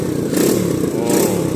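A 125cc ATV engine runs close by, idling roughly and then rising in a couple of short throttle revs, with a steady mechanical clatter and no talk.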